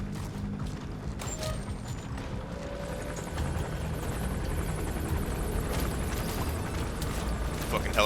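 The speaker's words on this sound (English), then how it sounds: "Fucking helicopter's right on top of my head." A helicopter hovers overhead in the video game Metal Gear Solid 5, its steady rotor drone filling the scene and growing louder partway through. Other game sounds and voices mix in.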